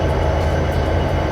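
A BNSF SD40-2 diesel locomotive in Train Simulator gives a steady, loud rumble and rolling drone of engine and rails, continuous and close, with no talk over it.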